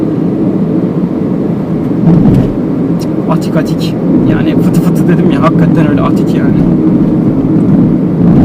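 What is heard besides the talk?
road and wind noise inside Hyundai i10 driving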